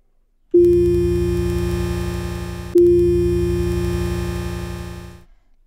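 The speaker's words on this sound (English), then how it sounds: "and you make them fade in, it sounds like this" A bright synthesized tone with layered overtones swells in, sustains, restarts once, then fades out, alone and fairly loud.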